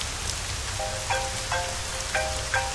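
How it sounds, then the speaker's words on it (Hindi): Heavy rain pouring steadily as a dense, even hiss, with a few faint tonal chirps and drips standing out over the continuous downpour. "अचानक तेज बारिश चालू हो गई।"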